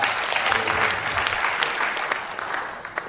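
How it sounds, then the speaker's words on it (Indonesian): Applause from a church audience at a couples' gathering, a steady dense wash of clapping held for the whole span with no talk over it. "Beri aplaus bagi Tuhan."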